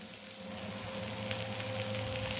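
Onion and capsicum fry in a pan with a soft, steady sizzle under a constant low hum, staying quiet and even throughout.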